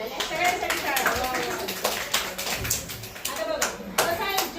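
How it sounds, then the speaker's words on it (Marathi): Group clapping from an audience of children in a classroom-like talk, several uneven bursts of hand claps close by, mixed with voices and chatter throughout. "टाळ्या सगळ्यांसाठी, टाळ्या सगळ्यांसाठी टाळ्या."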